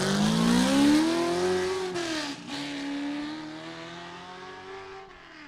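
Eric Schmidt's race car departs at the Loup 2 Loup race in Halsey, its engine loud and close, revving hard and rising in pitch with a clean gear shift as it pulls away, with no voices over it.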